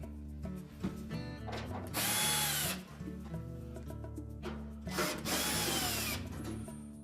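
A power drill runs in two sustained bursts, backing out No. 2 Phillips screws from the back panel of a Whirlpool range, with quieter clicks and handling noises between the bursts.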